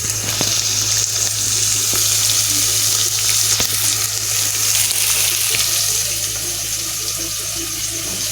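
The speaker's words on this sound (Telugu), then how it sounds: "చూడొచ్చు గైస్ ఎలా ఫ్రై అవుతుందో మన ఆనియన్ అండ్ చిల్లీ." Onion and chilli frying in a pan for chicken curry, a steady close hiss and sizzle that runs throughout with faint stirring clicks and no talk.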